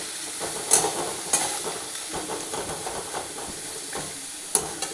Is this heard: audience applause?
no